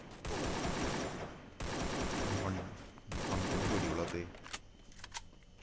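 Rapid automatic gunfire from the mobile game Free Fire comes in three sustained bursts, loud and dense, with brief gaps between them and a quieter tail at the end.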